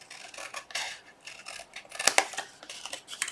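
Several crisp scissor snips and rustles as Hershey's snack-size cardboard boxes are cut apart, quiet and close, with irregular pauses between cuts.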